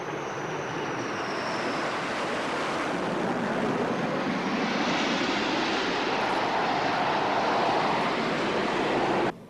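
A4 naval jet aircraft flying past at an airshow, a loud, sustained broadband jet roar that holds steady, then cuts off abruptly at the end, with no talking.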